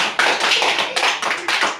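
A group of children applauding a girl after her turn in a focus game, brisk close-up clapping in uneven waves, loud and busy for under two seconds, without speech.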